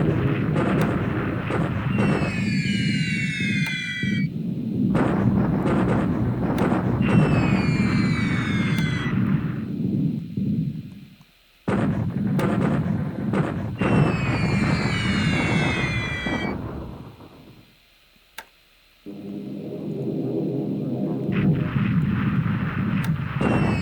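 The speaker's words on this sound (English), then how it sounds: "Now the China support bombardment." Repeated booming barrages from a China support bombardment in the strategy game War in the Pacific: Admiral's Edition, loud and continuous with sweeping high whistles, broken by two brief silences, no talk.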